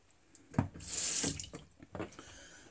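Water from a tap runs in short bursts during a head shave, with a brief hissing flow in the middle and quieter splashes and handling noises around it, close to the microphone.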